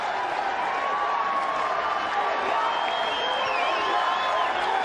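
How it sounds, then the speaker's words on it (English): A big stadium crowd at an India versus Pakistan cricket match roars and cheers steadily after a huge hit, a broad sustained wash of voices with whistles and shouts rising over it. "The crowds loved it."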